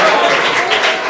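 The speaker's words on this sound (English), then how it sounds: "Big round of applause for" Audience applause for costumes at a synagogue Purim celebration: a short, steady wash of clapping from a crowd, fairly loud and continuous throughout.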